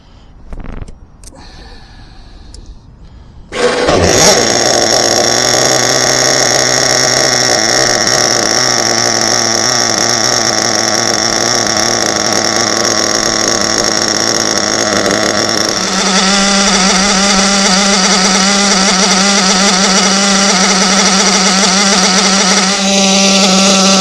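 SPOWER S6TT model engine running through its break-in, starting after a few seconds of quiet handling noise, then a loud, steady high-pitched drone with strong harmonics that shifts to a higher pitch partway through and holds.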